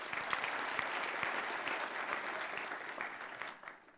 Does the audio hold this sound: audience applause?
yes